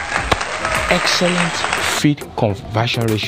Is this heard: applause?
yes